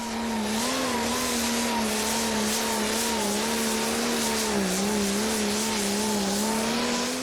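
A Prostock pulling tractor at an indoor Eurocup pulling event in Herning, Denmark, roars continuously under throttle. The loud engine drone wavers slightly in pitch over a broad crowd-and-track wash, with no break for the whole stretch.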